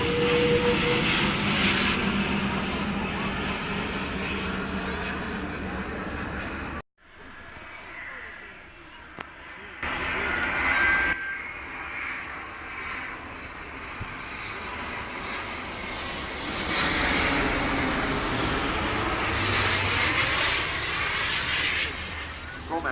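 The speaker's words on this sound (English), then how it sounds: "From Airbus then, the A350-1000 touching down here at Farnborough." An Airbus A350-1000 jet touching down at the Farnborough airshow, a loud sustained engine roar that drops out briefly, then swells again into a broad rushing thrust noise.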